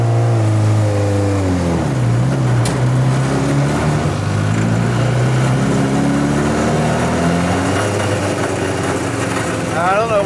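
A motorcycle-powered LeMons racecar engine revs hard in first gear, loud and close, its pitch rising and falling in strained sweeps as the gear is found, with an occasional voice under the roar.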